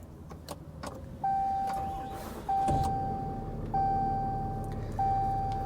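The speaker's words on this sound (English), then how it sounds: "I'm just gonna push button start it" A 2018 RAM Mega Cab pickup with a 6.7L Cummins diesel and push-button start, heard as repeated steady electronic chimes and clicks from the cabin, with a rumbling surge partway through as the engine turns over.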